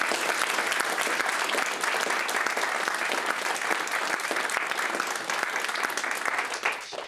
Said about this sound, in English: So a huge round of applause for all those people.